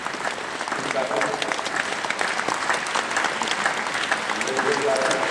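A large arena audience at a Helsinki horse-training demonstration keeps up dense, continuous clapping that stays loud and even throughout, with a voice talking above it.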